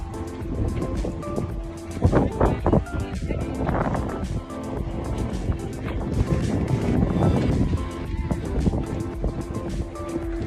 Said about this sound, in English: Wind is blowing very, very hard and it's blowing everything away.